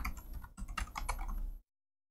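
Rapid typing on a computer keyboard, close and fairly loud, a dense run of clicks with a short pause midway, then silence after about a second and a half.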